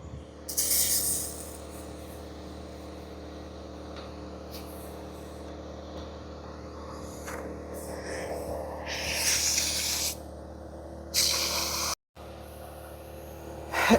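Flex Ice cleaner is sprayed onto a urine-soiled car seat in several short, sharp hissing bursts over a steady low machine hum, with no talking.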